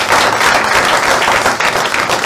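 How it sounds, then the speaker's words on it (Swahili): Dense audience applause and clapping at a live Kenyan comedy and podcast show, a steady loud wash of many hands that keeps going without a break. "Wapi makofi ya Rapture na Mwafrika?"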